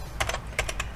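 Fingers type on a computer keyboard, two quick clusters of close, crisp key clicks separated by a brief pause, with no speech.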